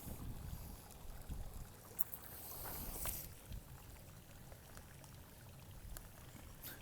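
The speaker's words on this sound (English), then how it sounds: "There's even a little bit of an outlet down here where there's some water flowing out of it." Hot spring water flowing out of a small outlet beside a trail in Northern California, a steady low splashing and gurgling with a brief louder rush near the middle.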